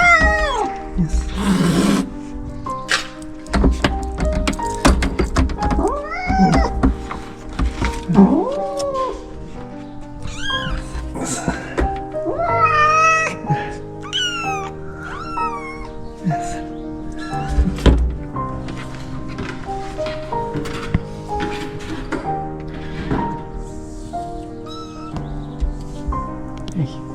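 Cat and kittens meowing indoors at a shelter, several high wavering meows scattered across a busy background of thumps and clatter, with people talking quietly in between.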